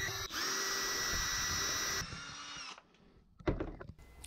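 A power drill whines steadily for about two seconds as it bores screw holes through aluminum T-track in a workshop, then winds down, followed by a few short clicks and knocks.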